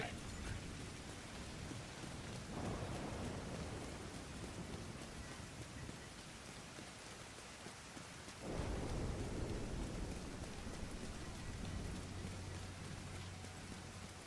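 Steady rain pours in a video game storm, with deep thunder rolling in twice over the hiss, a continuous broad wash of sound with no voices.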